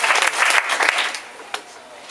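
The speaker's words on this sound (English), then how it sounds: "Let's give everybody a round of applause" Short burst of applause from an audience honoring a girls' high school volleyball team, a dense patter of clapping that thins and fades within about two seconds.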